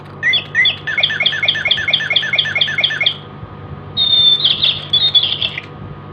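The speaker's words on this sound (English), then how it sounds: "Oh my god, now they are chirping." Small birds chirp close by in a fast, rapid-fire run of repeated tweets, pause briefly, then break into a shorter, higher trilling burst over a low steady hum.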